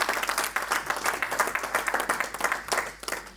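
A church congregation applauds and cheers, a dense, steady wash of many hands clapping close by, rising and falling slightly over a few seconds with no clear speech on top.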